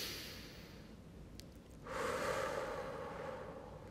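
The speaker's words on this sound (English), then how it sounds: "let's take a moment to just take a deep breath in" A single deep breath taken in and released during a calm closing moment, a soft airy inhale followed by a broader, louder exhale that lingers to the end, close and alone with no talking.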